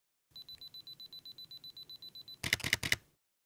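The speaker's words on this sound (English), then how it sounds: "the timer will count down and your photos will be taken" A steady series of rapid electronic beeps from a Canon EOS R self-timer counts down for about two seconds, then a quick burst of mechanical shutter clicks for exposure bracketing, close and clear.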